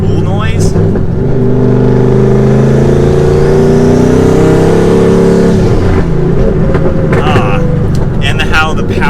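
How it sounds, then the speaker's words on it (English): A turbocharged car engine revs and builds for several seconds with a rising whine, then eases off into a steady lower drone. "that spool noise"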